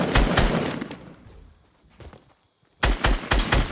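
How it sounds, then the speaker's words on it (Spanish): Rapid bursts of gunfire in Fortnite crackle in two clusters separated by a brief quiet stretch, the later volley sharper and louder. "Hay gente, escucho un disparo."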